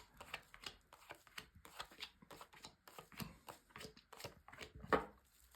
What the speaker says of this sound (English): So first of all, a good shuffle.